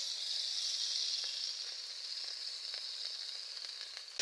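Ginger-garlic paste frying in hot oil for a mustard fish curry, a continuous close hiss and crackle holding steady for several seconds, fading slightly toward the end, with no talking.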